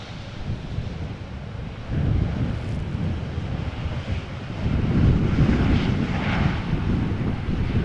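A KLM Embraer jet at Amsterdam Schiphol Airport on a crosswindy day, a loud, steady engine roar that swells midway, mixed with gusty wind buffeting the microphone.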